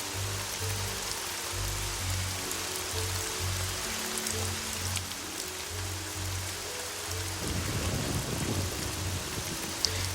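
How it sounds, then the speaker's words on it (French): Steady rain falls in the video game Evoland II, a constant hiss of drops on surfaces under a low, repeating musical drone, with no break over the whole stretch. "Il pleut"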